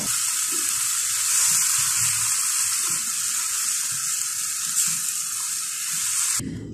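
Ridge gourd sabzi with black pepper and julienned ginger fries in a pan, a steady close sizzle running unbroken with faint stirring scrapes and no talk, cutting off just before the end.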